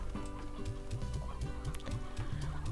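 Repeated soft clucking from chickens in the video game Slime Rancher, rhythmic and continuous, set against a dense, steady background of game music and noise.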